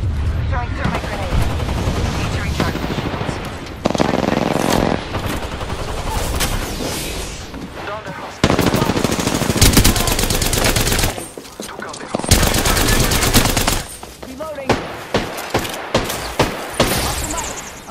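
Heavy, continuous gunfire from Apex Legends fills the whole stretch: rapid automatic bursts and sharp shots overlap in a dense, loud barrage, with brief dips between volleys.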